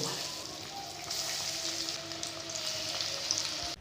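Food frying in hot oil during a homemade recipe, a steady close sizzle and crackle that runs continuously and then cuts off abruptly near the end.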